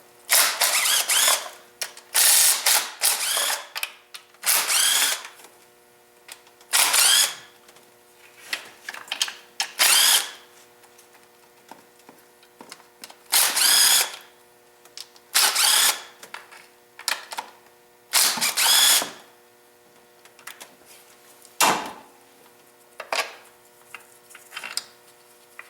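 A power tool spins out bolts from the upper intake plenum of a 3.8L engine in repeated short loud bursts of whirring and ratcheting, separated by quiet pauses.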